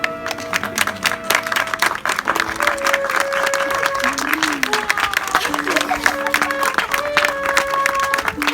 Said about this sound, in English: So I'll give them another round of applause, everybody.